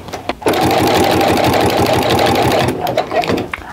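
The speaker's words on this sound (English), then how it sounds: "So I'm gonna sew a few forward and a few back." Sewing machine running in steady bursts as it stitches the seam of a simple Christmas stocking, with quick forward and reverse passes; a fast, loud mechanical chatter that starts abruptly, pauses briefly near the end, then resumes.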